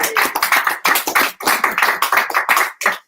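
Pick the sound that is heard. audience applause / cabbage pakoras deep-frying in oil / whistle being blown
audience applause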